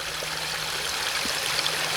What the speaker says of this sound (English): the water is flowing quite well here